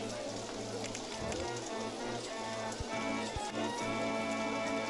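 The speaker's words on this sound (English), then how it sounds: "And it's going to rain." Rain falls in the video game RollerCoaster Tycoon as a steady hiss of drops and patter, moderately loud and continuous, with faint game tones underneath.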